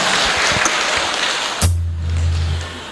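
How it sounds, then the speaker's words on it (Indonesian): Applause from a crowd at a Batak Lumban Gaol community harvest festival gathering in Bandung, a dense clatter of clapping for about a second and a half that cuts off abruptly, leaving a low steady hum. "Tepuk tangan buat Lubang Gaul"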